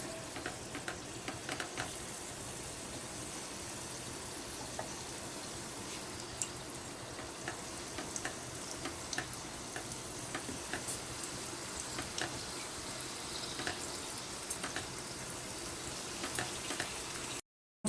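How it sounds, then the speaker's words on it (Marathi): Fish samosas dropped one by one into hot oil fry with a steady, continuous sizzle and fine crackle, close and even throughout with no talking. "तेल तापलेलं आहे आता हे समोसे आपण सोडायचे आहेत एक एक"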